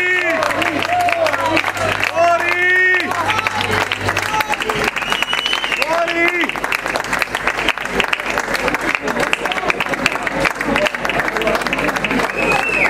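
Concert audience applauding and cheering a singer, dense clapping throughout with an announcer's voice speaking over the first half, then continuing as loud, steady applause.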